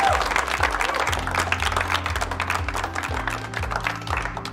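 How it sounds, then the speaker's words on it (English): An audience of contestants in a room gives a sustained round of applause over a pulsing low music bed, the clapping steady and full throughout. "Give yourself a massive round of applause for getting it this far."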